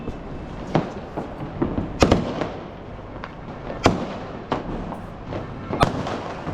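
A 12-shot Diwali firework cake goes off outdoors in a series of sharp, irregularly spaced bangs and crackles over a steady background din.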